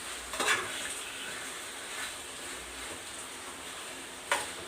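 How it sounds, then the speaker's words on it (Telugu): A spoon stirring chicken curry with onions in a pan, with soft scraping and faint sizzling, plus a few sharper clinks of utensil against metal near the start and end. "ఇలా ఈవెన్గా కలుపుకుంటూ ఉండాలి."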